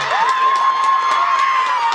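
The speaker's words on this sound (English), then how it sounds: "And the crowd goes wild." A baseball crowd at a Mexico versus Japan game roars after a home run, a loud, sustained wall of cheering and whooping with a steady tone running through it.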